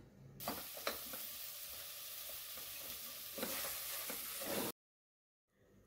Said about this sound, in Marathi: तो घालून घेऊया आणि टोमॅटो सुद्धा छान असा त्या मसाल्यामध्ये मिक्स करूया